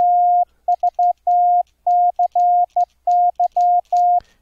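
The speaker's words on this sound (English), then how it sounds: "I'm keying with the Ultra Pico Keyer Plus. And that's keying the 555." Morse code sidetone from a 555 oscillator keyed by an Ultra Pico Keyer Plus: a steady mid-pitched beep sounding in crisp dits and dahs of varying length, loud and close, with brief silences between characters and no talk.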